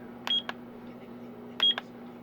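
A digital alarm clock gives two short pairs of high electronic beeps about a second apart as its alarm is switched on, faint and close over a steady low hum.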